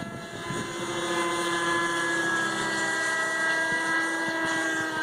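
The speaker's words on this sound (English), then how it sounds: "it's just a nice flying helicopter" Kyosho Cal 30 RC helicopter flying outdoors on a windy day, its steady high-pitched engine whine and rotor buzz holding loud and constant with some wind rumble on the microphone.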